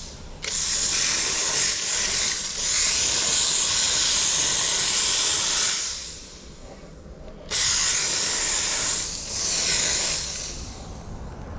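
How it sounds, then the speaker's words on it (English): A steam cleaner on its lowest setting blasting a 2020 Ford Edge's exterior, a loud continuous hiss in two long bursts with a brief drop and a pause between them. "That's the lowest setting for this steamer."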